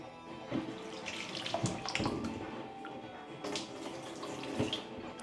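Water runs and splashes steadily into a container of soaking rice for dosa batter, with a few louder splashy bursts; no voices.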